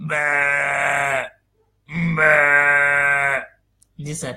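A man imitates a sheep with his voice, giving two long, loud, wavering bleats separated by a short pause, and then a brief spoken reply follows.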